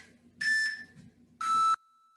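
Two loud electronic beeps from a workout interval timer set to max volume during a bodyweight bootcamp session, each lasting about a third of a second and spaced about a second apart, with no talk over them.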